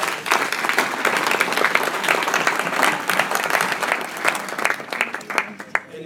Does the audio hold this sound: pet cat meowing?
no